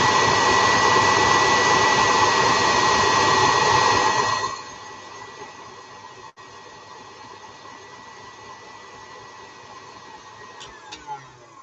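A KitchenAid stand mixer whips a mixture to soft peaks, giving a loud, steady motor whir that drops to a quieter hum partway through and keeps running low with faint clicks.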